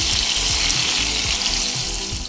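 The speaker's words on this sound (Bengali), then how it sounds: "পটল আর কুমড়ো নেড়ে ফেড়ে বেশ কয়েক মিনিট ভেজে নিয়েছি" Pieces of pointed gourd and pumpkin with turmeric fry in a pan with a steady, close, dense sizzle and faint stirring scrapes throughout.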